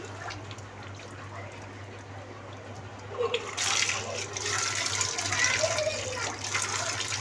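Water runs steadily from a kitchen tap while someone cooks at home, a soft continuous wash that grows louder and brighter partway through, over a low steady hum.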